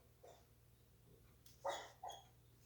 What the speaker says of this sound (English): That's my dog probably having a dream.